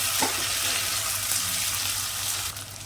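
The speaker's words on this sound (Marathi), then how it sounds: "यामध्ये ना बारीक चिरलेला टोमॅटो घालून घ्यायचा आहे मिक्स करूया" Finely chopped tomatoes sizzle in a hot pan of farm-grown curry leaves and oil while cooking for a vangi bhat, a steady close frying hiss that fills the whole stretch with no one talking.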